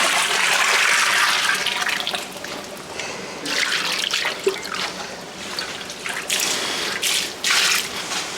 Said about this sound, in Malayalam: അവസാനമായിട്ട് നമ്മൾ അണ്ടിപ്പരിപ്പ് വറുത്തിട്ട് അരച്ചതാണ് കേട്ടോ അത് ഒഴിക്കുവാണേ